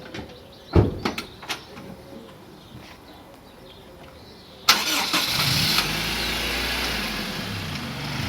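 Car engine cranking and catching after several door thumps and clunks, then a steady loud idle hum continuing to the end, with no talking.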